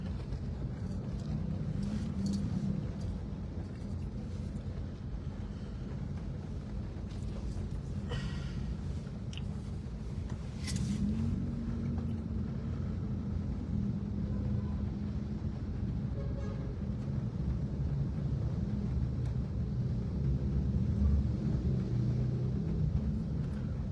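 Heavy road traffic on a congested city street under skyway construction, a steady low rumble of engines and passing vehicles with wind buffeting the microphone throughout.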